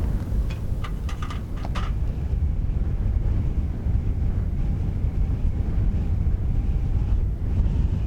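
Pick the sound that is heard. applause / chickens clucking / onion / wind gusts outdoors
wind gusts outdoors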